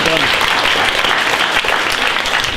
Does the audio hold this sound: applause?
yes